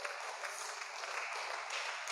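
A congregation at a church service claps together, a dense, even wash of applause that holds steady for about two seconds and sounds fairly faint and distant.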